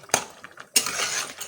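A utensil scrapes and clinks against a pan while jhinge sukto is stirred and mixed with ginger paste: two sharp metallic strikes followed by a rough, sustained scraping, close and clear.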